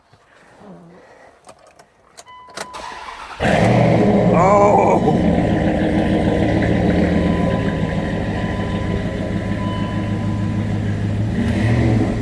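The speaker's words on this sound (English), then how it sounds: "It sounds really good when you start it up." After some jingling and clicks, a Shelby Durango's engine cranks and catches, then rumbles loudly and revs, idling close by with a short exclamation heard.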